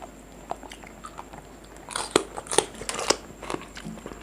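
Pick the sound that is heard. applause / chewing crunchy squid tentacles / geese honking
chewing crunchy squid tentacles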